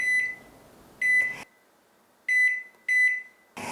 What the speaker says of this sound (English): followed by high-pitched notes when entering the cooking time.